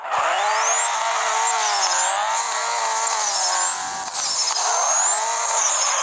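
Video game car drifting in Harishiya Drifter, a loud continuous engine tone rising and falling as the throttle is feathered, with high whining harmonics sweeping up and down; no talking.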